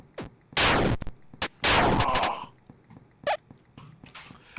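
Gunfire in a retro first-person shooter game jam title: loud close bursts of shots with ringing tails, two long blasts and several short isolated pops spaced irregularly.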